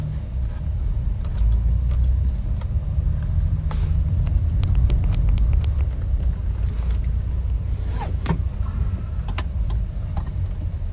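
Low rumbling engine and road noise from inside a moving 1988 BMW 325is E30 with a five-speed manual, steady throughout with occasional clicks and rattles.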